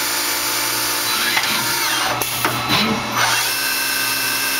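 A Tsugami BS20B Mark II CNC Swiss lathe runs at 3500 RPM, giving a loud, steady machine whine and hum, close by, with a few brief shifts in tone.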